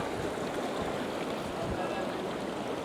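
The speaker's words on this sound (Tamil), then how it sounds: "மேலே அந்த அலையெல்லாம் வந்து அடிக்குது" Waves wash onto a sunny Bali shore, heard as a continuous loud roar of surf and rushing water, steady throughout with no talk.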